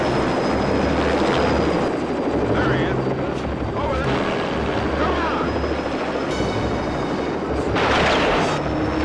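A helicopter's rotor thrums continuously nearby, loud and steady throughout, with scattered sharp noises and muffled voices mixed in.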